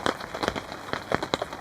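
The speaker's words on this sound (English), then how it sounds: "enjoy the sound of the rain" Heavy rain drums on the fabric of a hot tent at a camp in brutal weather. It makes an irregular patter of close, crackling bursts over a steady background hiss.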